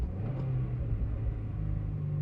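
Car engine during a downshift from second to first gear, a steady low rumble with a slight rise in pitch partway through, heard close and without speech.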